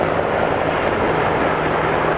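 Military helicopters from the three armed services pass overhead in formation at a National Day flypast, making a continuous broad rumbling drone with a steady low thrum that holds at an even level throughout, with no voices.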